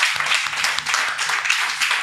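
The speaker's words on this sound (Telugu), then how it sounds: "నమ్మే వారందరం గట్టిగా చప్పట్లు కొట్టి ప్రభు నామాన్ని స్తుతించండి" A congregation at a fasting prayer service claps loudly in praise, a dense, continuous wash of many hands filling the space, with a faint voice underneath.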